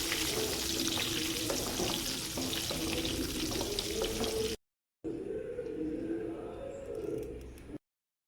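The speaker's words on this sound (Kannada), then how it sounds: "ಇನ್ನು ಅದೇ ತುಪ್ಪದಲ್ಲಿ ನಾನು ಗೋಡಂಬಿಯನ್ನು ಕೂಡ ಫ್ರೈ ಮಾಡ್ತಾ ಇದ್ದೇನೆ." Cashews fry in hot ghee with a continuous bubbling sizzle, close and fairly loud. After a brief silent cut, a quieter stretch of frying follows.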